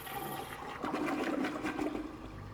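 A short toilet flush in Team Fortress 2: a rushing swirl of water rises and churns for a couple of seconds, heard up close with no speech.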